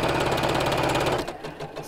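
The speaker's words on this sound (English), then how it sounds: "matching that point in the centre, we'll sew all the way around" A sewing machine runs steadily, stitching the seam of a box cushion cover with a fast, even mechanical whir and rattle, close and loud, then slows and stops near the end.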